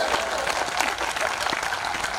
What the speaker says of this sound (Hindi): मेरे सम्मान में भी ताली बजाइए